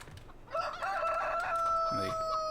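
A chicken in the Farming Simulator 2013 game crows loudly in one long drawn-out call, followed by a short low cluck near the end.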